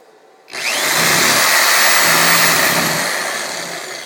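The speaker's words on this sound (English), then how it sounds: "I can even plug the Sawzall in and show you that the motor," A plugged-in Sawzall reciprocating saw, built around a two-coil motor with a short-circuited rotor, switches on after a moment of quiet. It rises to a loud, steady, high electric whine that runs close and alone, then eases slightly toward the end.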